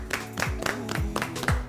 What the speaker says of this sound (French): Applaudissez-vous, félicitations.